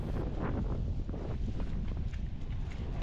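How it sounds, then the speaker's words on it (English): Strong gusty wind on Hilantagaan Island, Cebu, buffets the microphone, a low rumbling roar that swells and dips throughout with no voices. "Today was very windy"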